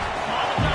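Football stadium crowd roaring during a fourth-down play at FSU versus Auburn, a dense, loud wash of noise that swells near the end under a commentator's voice.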